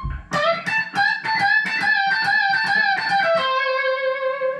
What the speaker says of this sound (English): we're starting with a really typical blues rock lick